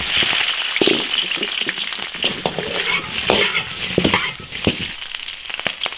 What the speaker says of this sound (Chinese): 烧油，再给它炒一下